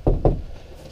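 Two quick knocks on wood inside an RV, close and solid, struck in fast succession and then fading into quiet room tone.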